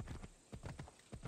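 Horse hooves clip-clopping in Assassin's Creed Odyssey, a steady galloping rhythm of hollow thuds in repeated groups, moderately close and fairly quiet, with no speech over them.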